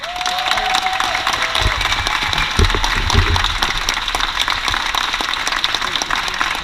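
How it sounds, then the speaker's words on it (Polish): Crowd applauding and cheering for Hannibal's sister at a street workout showcase at FIWE in Warsaw, a steady dense wash of clapping that swells in the middle, with some voices mixed in. "Także proszę Was o gorące brawa"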